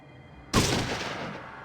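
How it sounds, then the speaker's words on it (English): A single loud shotgun blast erupts suddenly mid-fight in the video game Fallout, its boom decaying over about a second. "2 shotgun blasts should be enough."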